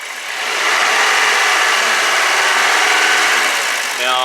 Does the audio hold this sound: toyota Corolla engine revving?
yes